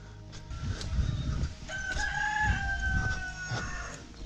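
A rooster crows at a trailhead in Guatemala, on the way to a waterfall: one long, clear cock-a-doodle-doo, moderately near, over a steady outdoor background hum with no talk.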